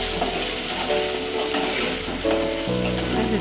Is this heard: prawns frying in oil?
yes